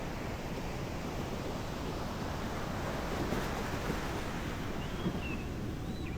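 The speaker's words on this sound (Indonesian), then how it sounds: "Untuk ombaknya sebenarnya masih tinggi." High ocean surf at Nguyahan beach in Yogyakarta makes a constant, broad wash of crashing waves, mixed with wind noise on the microphone and heard without any talk.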